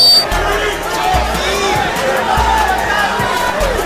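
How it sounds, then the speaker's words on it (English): A boxing crowd murmurs and reacts in a dense, steady wash of chatter and cheering through a professional fight card with many Filipino fans, with muffled thuds of punches and movement under the din. "you hear the crowd reacting"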